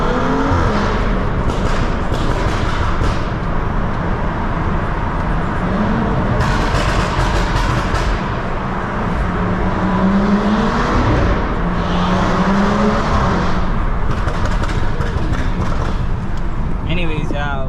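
A BMW 330i drives through a tunnel, its engine drone and exhaust echoing off the walls with surges of acceleration and rising revs, the sound continuous and close.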